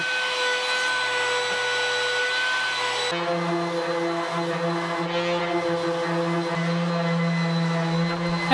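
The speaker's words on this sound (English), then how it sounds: "Now I can cut the legs down to their final length." A power saw cuts wooden table legs, made from backyard logs, down to final length: a steady, loud motor whine with a sustained tone that shifts pitch partway through, running continuously with no talking.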